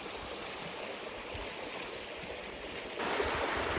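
Water rushing through a three-to-four-foot breach in a beaver dam, a steady broadband stream roar that swells louder near the end, with no voices.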